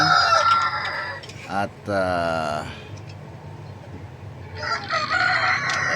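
Backyard flock of ten hens and two roosters: a rooster crows loudly nearby over steady clucking and squawking, with someone talking briefly at the start.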